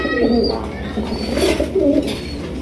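A male Super Mini racer pigeon coos close by, giving a few rolling, throaty phrases in a steady, fairly loud run with no talking.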